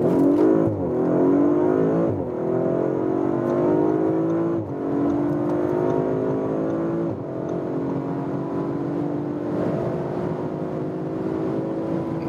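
An Audi RS5 Sportback with a 450 hp engine in RS mode accelerates hard from 35 km/h, the engine note climbing steadily through several upshifts with brief dips between gears, loud and close throughout with no talking.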